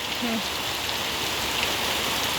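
Rain falls steadily in a durian orchard, making a dense, even hiss of drops on leaves and surfaces throughout, with a brief faint sound near the start.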